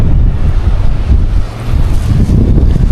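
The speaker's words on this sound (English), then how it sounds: "The wind is blowing so hard." A strong Santa Ana windstorm in Southern California roars continuously into the microphone, a loud, heavy low rumble with gusty buffeting that barely lets up.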